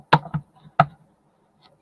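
Tarot cards being shuffled, heard as three quick, close, crisp slaps of card on card in an otherwise quiet room.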